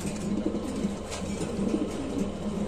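Pigeons at a fancy pigeon farm coo steadily and close by, with low, soft calls that overlap and continue throughout without pause.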